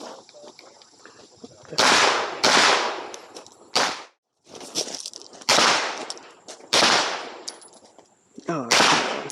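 A Phoenix Trinity H-Tac pistol fires in an IDPA shooting match, with loud, sharp shots in rapid strings and short pauses between bursts, recorded up close.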